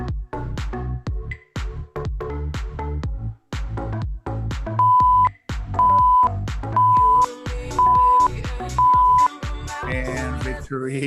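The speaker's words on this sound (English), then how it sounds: "beeps don't mean stop. They mean we got 5 seconds to go" Five evenly spaced electronic beeps from a workout interval timer during a large circuit class, sounding roughly once a second over steady upbeat music as the final seconds count down.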